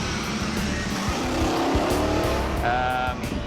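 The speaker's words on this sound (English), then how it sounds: "I hear a bit of stuttering in the engine." A car engine running on moonshine fuel runs steadily with a rough, uneven, stuttering note, joined near the end by a rising whine, with no talking.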